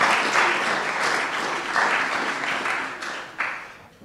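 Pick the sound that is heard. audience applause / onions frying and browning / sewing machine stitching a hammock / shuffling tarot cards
audience applause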